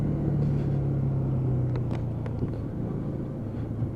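A grey Lexmoto Michigan motorcycle rides off a dual carriageway, its engine a steady, close drone with a brief whine that drops away partway through, and no talk.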